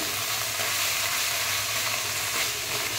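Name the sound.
cumin paste frying and being stirred in a pan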